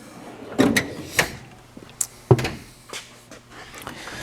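Drawers of a tool box slide and clunk with metallic rattles. Several distinct thumps and scrapes spread over a few seconds at close range, with no one speaking.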